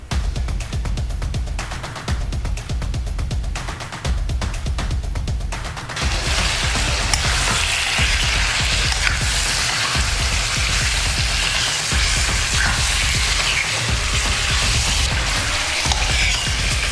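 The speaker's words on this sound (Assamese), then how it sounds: "এনেদৰে মাংসখিনি লৰাই অলপ ভাজি ল'ব" Meat stirred and fried in a pan for king-size pulao: a steady, dense sizzle that runs throughout, with rhythmic scraping strokes of stirring in the first half before the frying settles into a continuous crackle.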